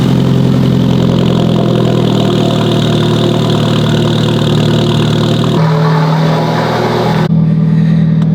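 An Alfa Romeo 4C engine runs steadily and close at low, idling revs while the car creeps up onto wooden blocks, with a brief change in tone near the end as it settles.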